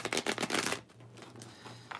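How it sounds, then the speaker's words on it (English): Tarot cards being shuffled by hand at close range, quick papery riffles and flutters in a brisk burst, then a pause with a low background hum before softer shuffling resumes. "As I shuffle all these cards"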